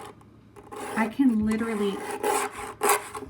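Fingernail scraping dried paint off the surface of an IKEA Kallax shelf, several short rough scratching strokes close up, with a person speaking briefly over the scraping.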